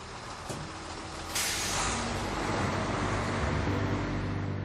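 A road vehicle moving on through a checkpoint during a counter-terrorism operation: a steady close engine and road rumble with a short hiss like an air brake release, then continuing drive noise, and no voices.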